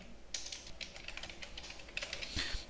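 Quick, light keystrokes on a computer keyboard while C++ code is written, clicking in an uneven rhythm with short pauses, close and fairly quiet.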